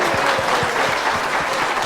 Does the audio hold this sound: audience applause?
yes